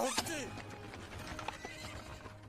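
A horse in a Texas-set comic adventure whinnies loudly near the start, followed by hooves clip-clopping at an unhurried pace beneath talk.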